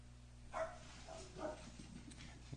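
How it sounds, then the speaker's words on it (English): Dog barking off to the side, a few short barks spaced through a quiet indoor room with a steady low hum underneath. "Excuse my dog's barking."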